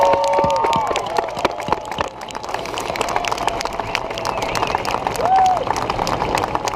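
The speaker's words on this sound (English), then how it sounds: "Can we give this team another round of applause" An outdoor audience claps for a military demonstration team at Aberdeen Test Center, a scattered round of applause with crowd noise and some speech mixed in.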